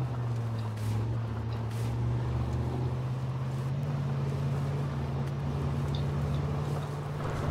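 A vehicle engine in the H1Z1: King of the Kill survival game hums steadily with a constant low drone, moderately loud and continuous throughout with no speech.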